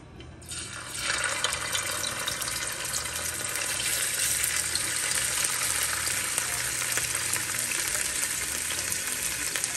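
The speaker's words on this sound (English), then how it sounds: "I'm just going to add half tablespoon of minced garlic" Minced garlic hits a little hot oil and starts frying, giving a bright, dense sizzle that rises sharply after a quiet first second, then holds steady and close with no talking.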